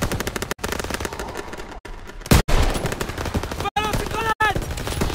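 Rapid bursts of machine gun fire in the Call of Duty WW2 video game, Paris liberation battle, loud and dense with brief gaps between volleys and other combat effects mixed in.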